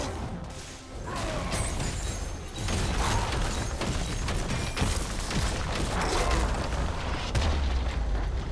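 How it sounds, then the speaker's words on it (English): League of Legends turret being destroyed: loud booms and crumbling crashes over dense game action and ability effects, sustained and close throughout. "Red team's turret has been destroyed."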